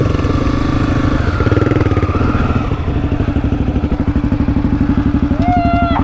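Honda CRF250F dirt bike engine chugs steadily on a sandy trail ride, a close, rhythmic mid-pitched thump with slight revving, and a brief bird-like squeak near the end.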